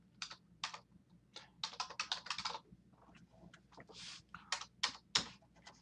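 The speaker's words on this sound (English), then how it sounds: "then I'm going to type in my first word" Close, quiet typing on a computer keyboard: irregular bursts of crisp key clicks, some in quick runs and others spaced out, with no voices.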